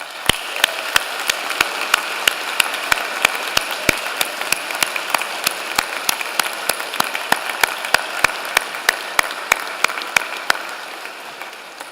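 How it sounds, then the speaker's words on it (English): Audience applause at a university spring convocation for public health and social work graduates, a steady wash of many hands clapping with sharp individual claps standing out throughout, close and continuous. "vigorous round of applause"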